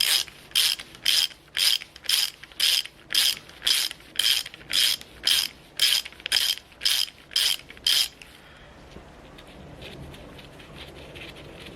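A hand ratchet clicks in quick rhythmic bursts, about fourteen short loud strokes close by, while loosening the oil pump on a 5.2 Magnum engine during a teardown, then stops and leaves quiet workshop background.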